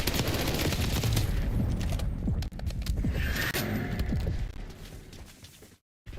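Rapid gunfire bursts in Black Ops 6, dense crackling shots and clattering mechanisms stacked close together, loud at first then thinning toward the end before a brief dropout to silence.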